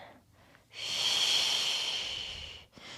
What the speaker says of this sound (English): Keep breathing through these stretches.